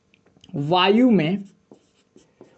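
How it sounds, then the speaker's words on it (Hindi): Chalk or marker strokes on a classroom board during a physics lecture on refraction of light: a few faint, brief taps and scratches follow a teacher's spoken phrase. "चलो लिखते हैं"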